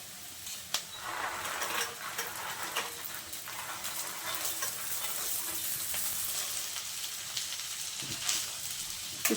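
Boiled chickpeas sizzle in a pan with fried onions and turmeric for chola bhuna, a soft continuous frying hiss broken by scraping stirs throughout.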